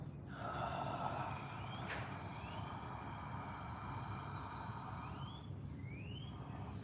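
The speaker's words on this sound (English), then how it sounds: "I take a big breath in." A long, audible inhalation during a group yoga session, breathy and steady beneath a constant noisy background with faint passing tonal chirps, fairly close but not loud.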